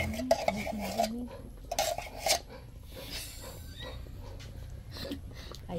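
A spoon scrapes and knocks against a pot while condensed milk is stirred into a thick ube halaya mixture, with clinking strikes early on followed by softer rubbing, scraping stirs.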